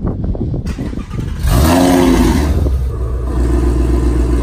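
A car with stainless headers and a Corsa double-helix X-pipe exhaust revs up loudly close by, a deep roaring engine note rising and holding steady after a brief quieter start.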